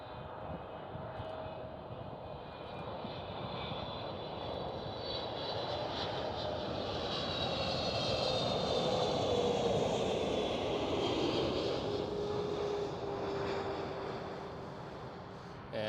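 A KLM Boeing 777-300ER passes at Amsterdam Schiphol, its jet engines a loud, broad roar that builds to a peak mid-pass and then slowly fades, with a faint whining tone drifting through it.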